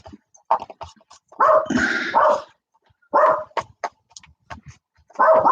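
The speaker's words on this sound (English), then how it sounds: "There's a dog kicking off." A dog barks in repeated bursts, some short and sharp, others longer and rougher with a growling edge, moderately close with quiet gaps between, in a home during a pub quiz.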